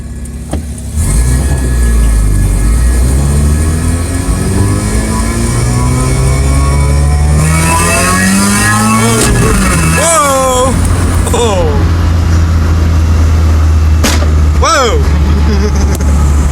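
A turbo Honda Civic in a racing video game revs hard through its gears with VTEC, a loud, constant engine drone that climbs in pitch over and over, with a talking voice in the background.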